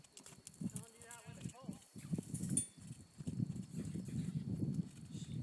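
Horse hooves clip-clop in a steady, moderately close rhythm during a ride at home, running beneath people talking almost throughout.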